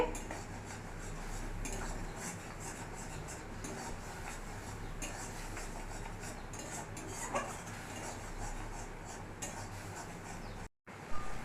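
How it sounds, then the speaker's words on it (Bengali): Bengali poppy-seed spice paste with salt, turmeric and a little water stir-cooked in a kadai for bata fish, with steady scraping and clinking of a spatula against the pan over a constant low hum, continuous and close. "কড়ার মধ্যে লাগছিল মশলাটা এইভাবে একটু কষা করে নিতে হবে"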